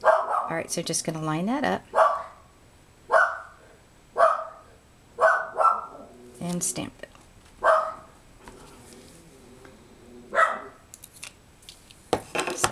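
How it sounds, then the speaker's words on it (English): A dog barks in repeated sharp single barks, spaced a second or two apart, close by, while a person talks quietly between and under them. "Now what would a video be without having my dog barking?"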